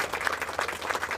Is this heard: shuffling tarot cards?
no